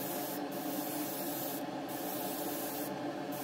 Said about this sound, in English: kind of working my way around the body, building up those coats of primer